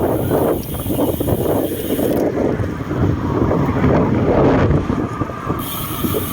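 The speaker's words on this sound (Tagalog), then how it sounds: "Grabe naman yung hangin." Strong wind buffets the microphone in loud, continuous gusts, with rattling and mechanical creaking mixed into the roar; no voices.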